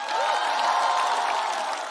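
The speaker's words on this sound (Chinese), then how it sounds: "鼓掌吧" A stand-up comedy audience cheering and clapping for a comedian, a steady dense wash of crowd noise with scattered claps, no single voice standing out.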